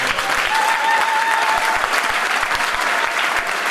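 A church congregation breaks into loud, sustained applause acclaiming God, dense clapping filling the room steadily with no talking on top.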